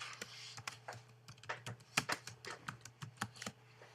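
Keystrokes on a computer keyboard as the words Hello World are typed, a quick irregular run of close, crisp clicks over a low steady hum, with no voices.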